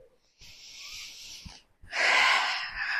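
A person breathing during gentle exercise for beginners: a long held, hissing inhale, a short pause, then a louder, breathy exhale, close to the microphone.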